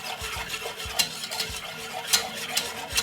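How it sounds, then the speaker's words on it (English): A spoon stirring hot chocolate made with dark chocolate powder in a cup, giving a series of light scraping clinks and taps at an irregular rhythm, close and fairly quiet. "Give it a stir."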